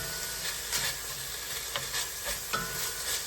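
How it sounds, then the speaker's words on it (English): Onions sizzle in a pot of Italian sausage soup, a steady frying hiss broken by several soft stirring scrapes and bumps, close and moderately loud. "Let's add these onions too"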